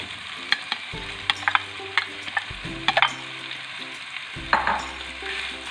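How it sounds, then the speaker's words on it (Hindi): Marinated chicken frying with onions in a pan over medium-high heat, sizzling with sharp spoon scrapes and clatters of stirring at irregular intervals, no talking. "इसको अब हमने फ्राई करना है मीडियम टू हाई फ्लेम पे, ताकि चिकन हमारा अच्छी तरह से फ्राई हो जाए"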